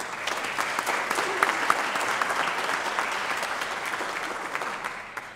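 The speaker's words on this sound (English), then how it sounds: "I think Michael deserves another round of applause." A large audience at a small business recognition awards ceremony applauds steadily, a dense wash of many hands clapping that holds at an even, fairly loud level for the full stretch with no talking.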